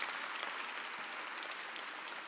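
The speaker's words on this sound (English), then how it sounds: "give them a round of applause, that's right." A round of applause at an awards ceremony, dense even clapping from a large audience, steady and unbroken, somewhat distant.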